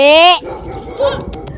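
A dog lets out a loud, close, drawn-out bark or howl at the start, followed by softer yips and a short whine amid outdoor background noise.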